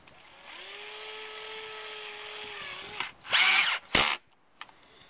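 A power drill whines steadily at an even pitch for a few seconds, then rises into louder bursts of grinding as it bites, close by.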